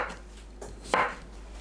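A knife slices a cucumber into 0.5 cm thick rounds, giving two crisp, close cuts, the second louder, with quiet between them and no voices.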